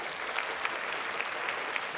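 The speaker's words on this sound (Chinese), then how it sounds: "我们一起拍手先欢迎他们。" Audience applause welcoming guests at a Christmas thanksgiving gathering, steady dense clapping from a crowd throughout, fairly distant and even.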